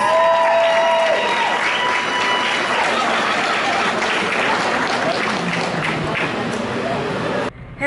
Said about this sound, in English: Round of applause for these ladies.